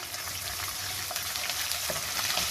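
Ginger-garlic paste fries in a hot pan for a chicken kofta curry. A dense, steady sizzle runs close and loud throughout, with faint stirring scrapes and no talking.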